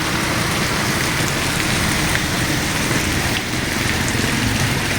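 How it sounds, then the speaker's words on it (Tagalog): Heavy rain pours down in a dense, constant hiss, drumming on surfaces close by with no letup. "napakalakas ng ulan"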